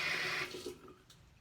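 Garlic cloves rinsed under a running kitchen tap: a close, steady rush of water for about half a second, then fading into softer trickling and drips.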